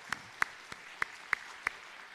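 At a Wednesday evening church service, a few sharp, evenly spaced hand claps ring out, about six distinct beats against a quiet room, welcoming visiting guests.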